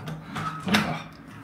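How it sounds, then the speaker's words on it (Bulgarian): A bathroom door opening onto a balcony clunks and slides with a short scrape and a louder latch knock partway through, close and moderately loud with no voices. "Отваряте вратата."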